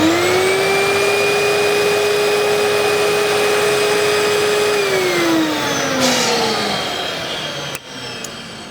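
A VPI record cleaning machine vacuums a vinyl record, a loud steady whining suction drone that holds level, then drops in pitch and tails off as the run ends.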